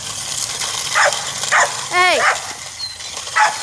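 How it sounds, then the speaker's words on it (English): A dog barks in short repeated bursts, about four or five sharp barks and yips spaced through a few seconds, near and loud, with a person's brief shout mixed in outdoors by an RC car track. "Sorry about the dog barking."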